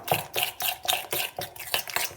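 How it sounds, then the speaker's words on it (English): A tablespoon whisking vanilla glaze in a bowl, quick rhythmic clinking and swishing strokes repeating about every quarter second, close and steady, with no talking. "we're just going to whisk up that glaze"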